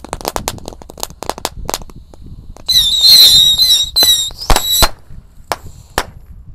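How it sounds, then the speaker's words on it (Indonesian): A pack of mini Thor rocket firecrackers is lit together outdoors, giving a string of sharp cracks, then a loud shrill squealing whistle of rockets launching for about two seconds, followed by scattered pops. "Selanjutnya kita nyalakan mercon roket Thor. Ini ukuran mini ya. Kita nyalakan satu pak sekaligus guys"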